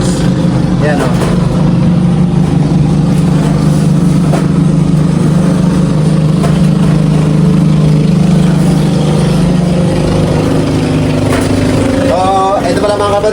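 Steady low engine drone of boats passing by a pigeon loft in Hagonoy, Bulacan, Philippines, with people talking over it and a brief higher whine near the end.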